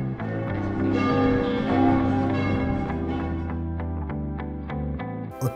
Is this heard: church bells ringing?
yes